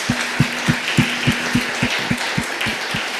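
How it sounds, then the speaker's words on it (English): An audience applauds panelists at a talk, with clapping heard as a steady, evenly spaced series of soft thuds under a faint low hum. "if we can give them a round of applause, please"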